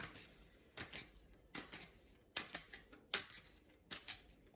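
Tarot cards are drawn and laid down on a table one by one, giving a series of soft, crisp slaps and slides spaced at irregular intervals, quiet and close, with no speech.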